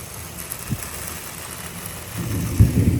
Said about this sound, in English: Wow, that's a lot of rain.